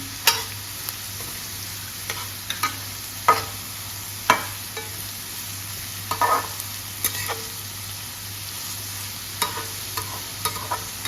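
Onion frying in oil with salt makes a steady close sizzle, broken by regular clinks and scrapes of a spoon stirring the pan.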